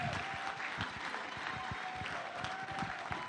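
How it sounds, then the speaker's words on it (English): Audience in a large hall gives a standing ovation to the senior pastor of the Covenant Nation at a Nigerian public forum, a dense, steady wash of clapping throughout with a faint tone and crowd murmur beneath. "with a warm applause, a standing warm applause"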